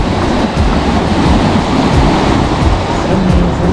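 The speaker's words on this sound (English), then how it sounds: "How I love the sound of the sea." Sea waves wash onto the coast at Hammamet, Tunisia, a steady, dense roar of surf with no pauses, loud and close throughout.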